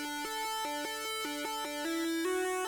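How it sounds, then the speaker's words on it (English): A bright, buzzy chiptune-style synth lead plays a short melody on its own, with evenly spaced notes that step upward toward the end, steady and up front with no voices. "I went into leads and I found the chip tune lead."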